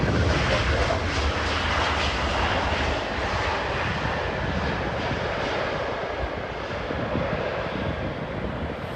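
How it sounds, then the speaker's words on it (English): A Boeing 787 Dreamliner jet on approach to Heathrow produces a steady, loud, broadband engine roar throughout, with some wind buffeting on the microphone. "Dreamliner on approach looks like."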